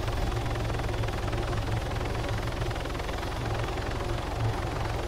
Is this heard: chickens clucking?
no